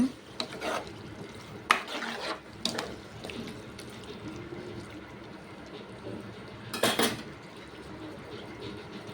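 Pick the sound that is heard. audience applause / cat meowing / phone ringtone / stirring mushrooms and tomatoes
stirring mushrooms and tomatoes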